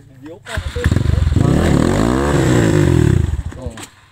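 A motorcycle engine revs and accelerates on a mountain road toward Tangkuban Parahu, rising through a steady climbing drone that swells and then fades. Close and loud, with people's voices speaking over the engine at the start and end.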